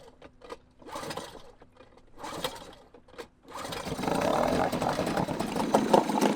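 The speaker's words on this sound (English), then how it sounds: "Running some water through the engine." A small sailboat's engine idling in a boat yard while fresh water is run through it, starting with uneven intermittent mechanical chugging and then settling into a louder, steady running drone.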